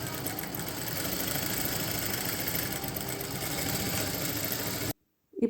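Sewing machine running steadily for about five seconds, stitching saree fabric pieces together, a continuous close mechanical whir that cuts off abruptly near the end.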